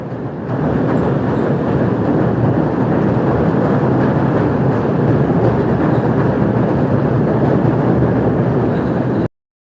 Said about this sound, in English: See the train over here? It's about to cross you right now.